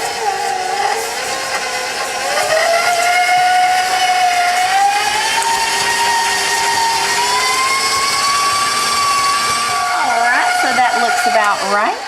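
Brown and regular sugar being creamed in a mixer until fluffy for oatmeal cream pies: a steady, loud motor whine with a wavering pitch that runs throughout, with a brief shift near the end and no talking.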